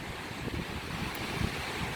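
Black Sea surf washes onto the shore at a Ukrainian resort, a steady rushing wash with soft repeated surges and some wind buffeting on the microphone, no voices.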